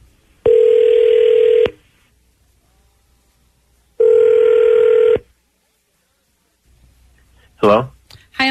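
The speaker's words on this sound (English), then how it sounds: "Roy's going to dial Rich up" An outgoing telephone call ringing back twice. Each ring is a loud steady electronic tone lasting just over a second, separated by silence, and a voice briefly starts talking at the end.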